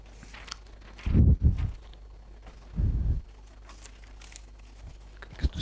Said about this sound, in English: Sorry about this little shuffling of papers.